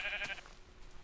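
Sheep bleating in Minecraft, a single short bleat heard faintly and alone in the game.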